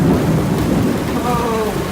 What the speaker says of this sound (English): Oh, listen to that thunder,